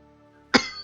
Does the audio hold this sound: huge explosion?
no